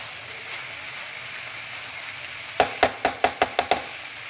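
Egg and potato bhujia fries in a pan under a steady soft sizzle, and then a quick run of about seven sharp spatula taps and scrapes lands near the end.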